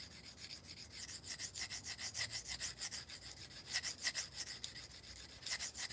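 A knife is sharpened freehand with repeated rhythmic scraping strokes, a steady back-and-forth rasp of steel on stone, close and moderately faint, continuing without pause.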